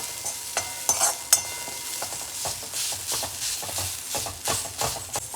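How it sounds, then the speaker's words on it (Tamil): Paal kanji ingredients are stirred in a pan with a spoon. Repeated scraping and clinking strokes come in an irregular rhythm over a soft sizzle, close and moderately loud, with no talking. "இதை போட்டு லேசாக அப்படி கிண்டிடுங்க"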